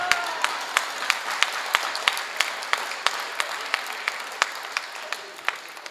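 Audience at a Holi comedy show claps in a steady, rhythmic run of sharp individual claps over a soft crowd bed, close and fairly loud throughout.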